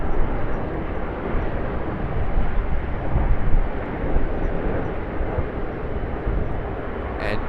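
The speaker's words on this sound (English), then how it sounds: "What a beautiful takeoff from that Fiji Airbus A350-900." A Fiji Airways Airbus A350-900 takes off from Sydney Airport with a loud, continuous jet roar that swells slightly midway, heard from a distance with wind on the microphone.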